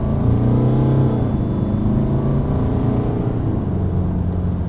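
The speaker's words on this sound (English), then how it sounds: "You can certainly hear the diesel engine when you really put your foot down." A 2014 BMW 328d with a diesel engine accelerates hard, its steady, loud engine drone rising smoothly in pitch throughout, with no talking.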